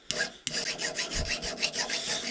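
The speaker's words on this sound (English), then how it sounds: "I'll take a file." A hand file rasps across the peened ends of a steel ramrod pin in a steady series of close, scratchy strokes, roughly a dozen back-and-forth passes after a brief start.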